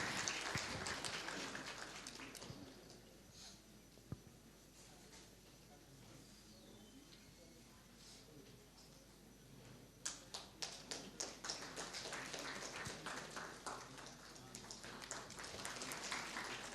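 A conference audience at a tax law seminar applauds a welcomed guest, starting with scattered taps and a soft murmur, then swelling into clearer, more distinct claps in the second half, moderately distant.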